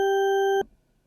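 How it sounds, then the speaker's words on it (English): A synthesizer oscillator set to an octave wave holds one steady, organ-like tone for about half a second before it cuts off abruptly, loud and alone. "octave wave, which is almost like an organ tone,"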